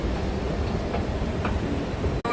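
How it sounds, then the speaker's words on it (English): Train sounds at a station in Switzerland: a steady rumbling rail noise with faint clatter throughout, close and fairly loud, ending with a sharp click. "Kind of impressive for a train station."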